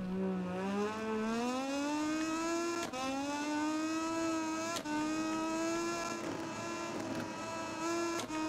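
Moto2 racing motorcycle engine in the MotoGP 20 video game at the Spanish round, a loud continuous high-revving whine climbing in pitch with brief dips at gear shifts, steady and close throughout.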